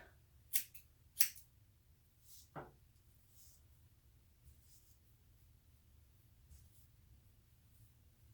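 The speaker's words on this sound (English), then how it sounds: "I'm going to be using the thinning shears" Thinning shears snip through hair in a few quiet, crisp clicks, two sharp ones close together, then a softer cut and a few faint snips spread out over a low, hushed room background.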